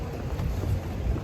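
Strong wind blowing outdoors, heard as loud low buffeting rumble against the microphone that continues without a break.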